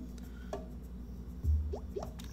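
Watering a character in the video game Carto: a soft low splash followed by a few small, distinct drips and plops, faint over a quiet ambient background.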